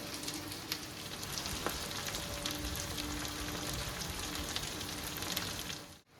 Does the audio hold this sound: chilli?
yes